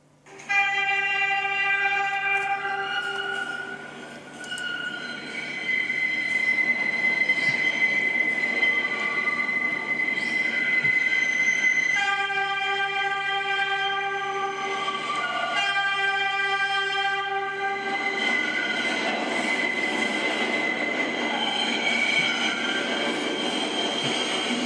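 An R62 subway car in the Trainz video game sounds its horn in long sustained multi-tone blasts over a steady rolling train drone, loud and continuous.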